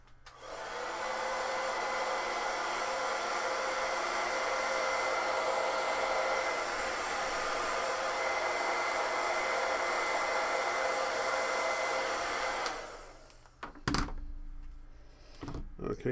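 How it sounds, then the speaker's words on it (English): A hair dryer blows on a customized foam weapon, a loud steady whooshing hum running for about thirteen seconds before it switches off, followed by a few handling thunks and knocks. "you're just going to take the hairdryer, do a quick little once over to make sure it's all dry"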